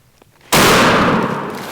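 A single loud, close shotgun blast fired at a turkey during a youth turkey hunt in Kentucky, bursting abruptly after near-silence and ringing out with a long decaying echo.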